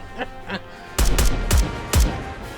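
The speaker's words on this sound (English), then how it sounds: "Snow White's gun spits fire, blasting Chatterbox's head to pieces" A rifle fires in Goddess of Victory: NIKKE as four sharp, loud gunshots in a quick, uneven rhythm, each cracking hard and booming low, following two fainter metallic clanks.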